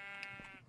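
A single short, faint sheep bleat in Minecraft, a wavering nasal cry heard alone.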